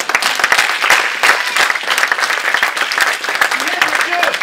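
A church congregation claps in dense, lively applause throughout a short stretch, with crowd voices mixed into the clapping.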